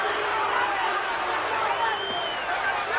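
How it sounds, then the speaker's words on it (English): Crowd at a Mike Tyson versus James Smith boxing match booing, a broad sustained wash of voices with a commentator speaking over it. "And some booing coming from the crowd."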